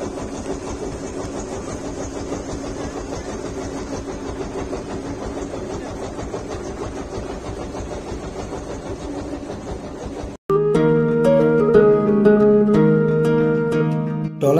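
A trawler boat engine idles at Karamjal Point in the Sundarbans, giving a steady close mechanical drone for about ten seconds before an abrupt cut to music.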